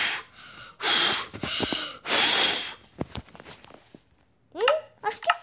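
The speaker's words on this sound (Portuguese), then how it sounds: "Deixa eu soprar." Short puffs of breath blown onto a never-worn boot to clear dust, several close airy bursts in a row, followed by brief rustling and clicks of handling.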